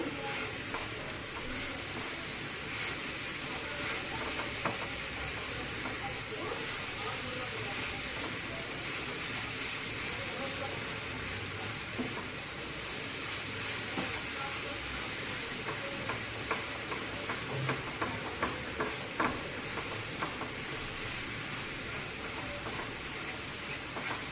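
A sesame and jaggery filling for Bangladeshi puli pitha cooks on low heat, giving a steady soft sizzle and hiss with faint stirring scrapes throughout and no talk.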